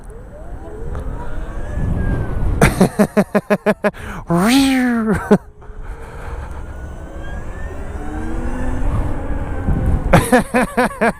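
A Zero FX 5.7 electric motorcycle on dual-purpose tires rides off-road with a quiet rising and falling motor whine, wind and rough rumble, broken by sharp bursts of rattling clatter from the terrain.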